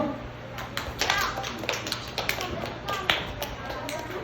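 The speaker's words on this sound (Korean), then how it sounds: "알았어, 우리 친구 박수!" Children clapping for a classmate at a kids' climbing class, with quick uneven claps scattered through the scene over steady background noise and children's voices.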